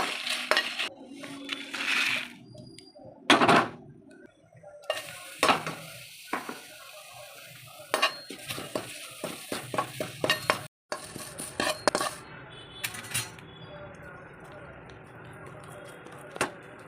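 Garlic, chana dal, tamarind and dried chillies dry-roasting in a pan. Scattered scraping and clinking from stirring sits over a faint sizzle, with pauses and some speech mixed in.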